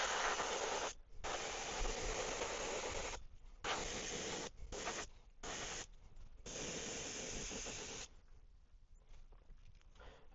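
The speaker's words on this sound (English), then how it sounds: "I've actually got a new white, and it's a lot thinner than the other one, so airbrushing is a lot easier" Airbrush spraying thin white paint onto a 3D-printed fishing lure, close bursts of fine airy hiss that stop and start in short and longer pulses, with soft handling noises in the gaps.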